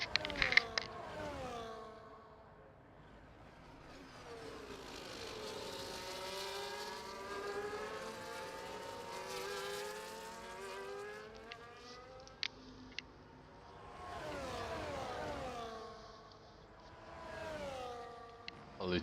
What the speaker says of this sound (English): just enjoy the sounds of the cars for a minute